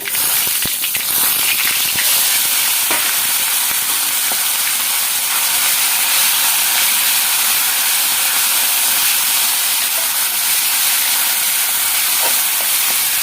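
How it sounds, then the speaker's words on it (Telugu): Oil sizzles in a steady, loud hiss as spices fry, a continuous crackling spatter that holds unchanged throughout. "పోపు వేగిపోయిందండి"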